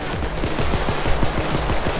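Rapid automatic gunfire in the video game Payday 2: a steady stream of sharp, evenly spaced shots with a low thump, loud and continuous for the whole two seconds over a dense background din.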